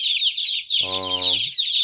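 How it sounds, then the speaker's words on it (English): Chickens cluck and chatter in a crowd all around, a dense high chorus, while one bird gives a loud, close, throaty squawk in the middle. "there's chickens like all over the place"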